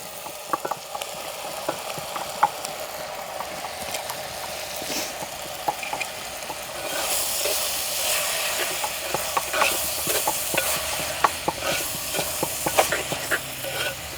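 Mushrooms are stirred and sautéed in a pan for a curry. A steady sizzle hisses throughout, with scattered sharp spatula scrapes and taps against the pan, and the sizzle swells louder in the second half.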